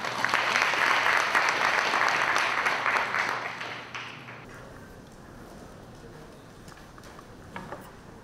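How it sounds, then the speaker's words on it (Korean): An audience at a 2020 ICT industry outlook conference hall gives a burst of applause that holds for about four seconds, then fades into quiet room tone. "여러분 뜨거운 박수로 맞이해 주십시오"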